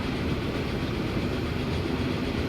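Train rolling along a track in the rail-building game Transport Fever 2, a steady, continuous low rumble of wheels and carriages heard alone with no talk.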